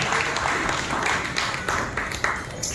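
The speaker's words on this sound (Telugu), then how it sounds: "బిగ్గరగా చప్పట్లు కొట్టి ప్రభువును మహిమపరచాలి." A church congregation claps loudly together during worship, a dense, steady wash of many hands that fills the room without pause for the whole stretch.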